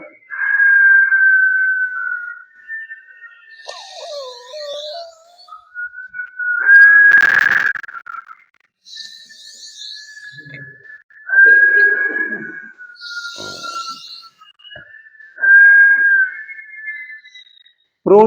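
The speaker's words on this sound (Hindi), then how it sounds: "और मुंह से सीटी बजाते छोड़ना है" Long breath-driven whistles during a yoga breathing exercise, air pushed out through pursed lips in several sustained, wavering tones with short pauses between, loud and close, no speech.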